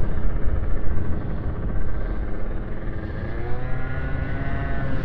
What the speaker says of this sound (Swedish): Moppe. Eller moped.